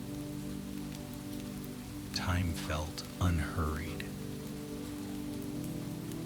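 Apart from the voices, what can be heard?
gentle rain falling, raindrops on surfaces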